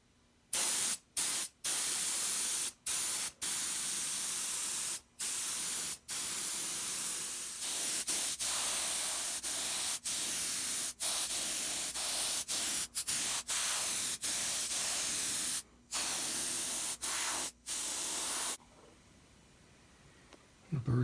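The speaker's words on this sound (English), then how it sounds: "I'm going to try to airbrush the edges of the guitar to try to get that burst look." An airbrush sprays a shaded stain and polyurethane mix onto the edges of a homemade bass guitar body in a loud, steady hiss, cut into many bursts by short pauses before stopping near the end.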